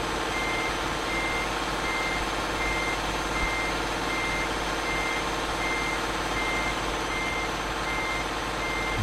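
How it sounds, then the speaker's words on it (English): Steady, evenly spaced reversing beeps from a truck backing up in a trucking video game, repeating in a regular rhythm over a constant engine drone with no talking. "Back the truck up, back the truck up."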